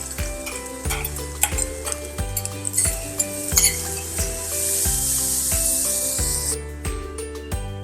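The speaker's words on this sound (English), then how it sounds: "Now I am adding 1 tomato finely chopped." Finely chopped tomato sizzling in a pan while brown rice khichdi is cooked, with a steady loud frying hiss, clinks of a spoon against the pot and a repeating low rhythmic hum underneath.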